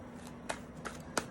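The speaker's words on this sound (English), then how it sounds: "Shuffle somebody, shuffle the cards." Playing cards being shuffled, heard as three quick crisp riffling bursts, close and fairly quiet, over a faint background hum.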